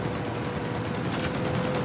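Gunfire from the game Mafia Definitive Edition, a dense, continuous rattle of shots sustained throughout under a loud wash of action noise, with no clear gaps between bursts.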